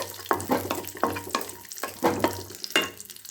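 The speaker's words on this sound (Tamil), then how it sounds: "கொஞ்சமாக நெய் விட்டு முந்திரி திராட்சை வறுத்து எடுத்து வச்சுட்டுடலாம்" Cashews and raisins fry in a little ghee, a close, lively sizzle broken by repeated stirring scrapes roughly every half second, with no talking.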